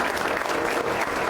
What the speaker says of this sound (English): I just want to applaud you